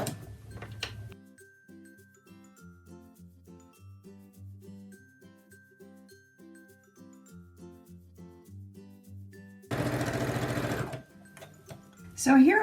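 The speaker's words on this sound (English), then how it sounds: "I'm going to sew around both mitts, the lining mitt and the main mitt" A sewing machine runs steadily while stitching around fabric oven mitts, a lining mitt and a main mitt, with a rhythmic mechanical whir. A louder burst of running comes near the end.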